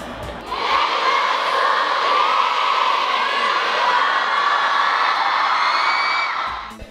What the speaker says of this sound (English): Kasi sobrang lakas ng sigaw nila, tapos sobrang init ng pagtanggap nila.